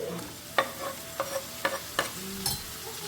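Onions and tomatoes fry in a pan as a spoon stirs them, with five or six distinct scraping strokes over a continuous close sizzle.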